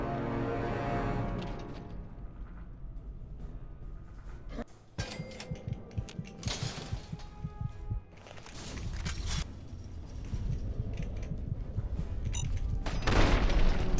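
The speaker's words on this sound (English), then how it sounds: "Is the explosion killing me?" Explosions rumble and crackle in the Fallout game, a dense, continuous roar broken by sharp bursts and debris-like clatter that grows louder toward the end.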